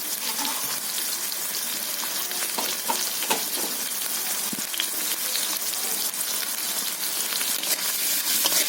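Coriander and cumin spices fry in a hot pan with a steady, close sizzle and crackle, broken by occasional stirring scrapes, and no voices over it.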